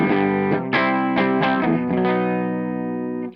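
A clean electric guitar plays a few chords that ring out and sustain, then fade quickly at the end, with no talking.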